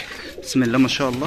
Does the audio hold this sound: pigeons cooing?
yes